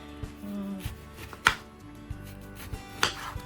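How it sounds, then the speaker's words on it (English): A knife cuts through oranges on a board, producing a few sharp, irregular chops and clicks with soft thuds between them, close by and with no speech. "I'm gonna start with my oranges, and we're just gonna slice them"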